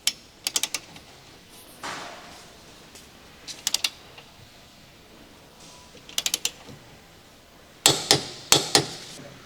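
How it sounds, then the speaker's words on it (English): A 13mm wrench tightening the lower control arm rear bushing bolt on a Chevrolet Cruze clicks in short, sharp clusters, several separate bursts of quick metallic ticks spaced a couple of seconds apart, close up with no talking. "Using the 13mm wrench, tighten the lower control arm to rear bushing retaining bolt."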